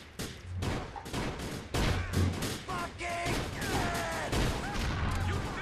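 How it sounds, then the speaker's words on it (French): Gunfire in the motorcycle-gang game GTA Lost and Damned, a rapid flurry of sharp shotgun blasts and booming shots that overlap in dense bursts, loud and close, with a voice talking faintly underneath. "c'est un coup de fusil à pompe"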